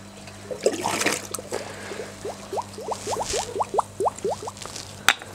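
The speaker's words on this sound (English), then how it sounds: "And now the water is able to go directly into my classy garden." Water drains from an aquaponics grow bed once the bell siphon is pulled, starting as a splashy gush and settling into a rapid run of gurgling, glugging bubbles close by, ending in a sharp drip.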